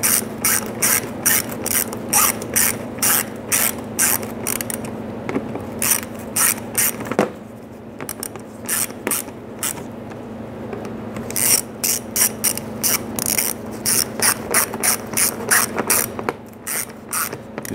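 A ratchet clicks rapidly and steadily as it snugs down the front bumper cover fasteners on a 2005-2010 Chrysler 300. The loud bursts of clicking are close, with a brief pause partway through.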